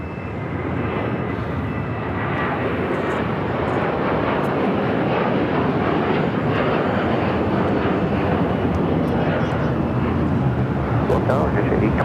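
An airliner takes off from the south side at LAX, its jet roar broad and steady for the whole stretch while radio voices talk over it.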